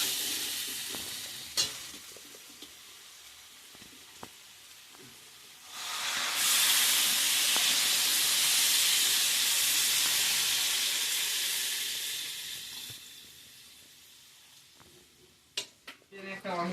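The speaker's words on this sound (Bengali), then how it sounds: "আমার কাঁঠালটা কষানো হয়ে গেছে ভাজা ভাজা। এখন জল দিয়ে দিব।" Fried jackfruit curry in a pan hisses and sizzles loudly once water goes in, a steady burst of steam lasting several seconds before fading, with stirring scrapes and clinks of a utensil before and after.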